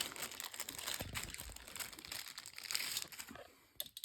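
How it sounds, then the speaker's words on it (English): A plastic shopping bag crinkles and rustles steadily up close, with a few louder crackles and a quieter stretch near the end. "this is a shopping bag"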